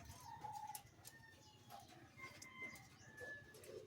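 A pet pigeon coos softly, low throaty calls repeating a few times at a distance in a quiet room.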